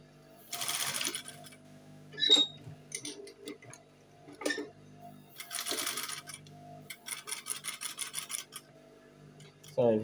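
A sewing machine stitches a half-elastic trouser waistband in several bursts of steady mechanical whirring, separated by pauses, small clicks and fabric handling, all close up with no talking.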